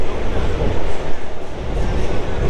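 Steady rumble and clatter of a train at Baranagar railway station in Kolkata, a continuous loud wash of wheel and carriage noise filling the whole stretch.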